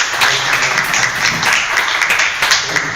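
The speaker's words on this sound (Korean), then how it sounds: "박수로 환영해 주시면 고맙겠습니다." An audience applauds to welcome a committee chair to speak at an Incheon civic talk forum, a thick wash of clapping close and loud, steady from start to finish.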